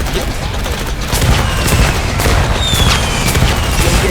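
Gunfire in a shooting video game rattles in a dense, loud fusillade of rapid shots and booms, continuous throughout and slightly heavier after the first second.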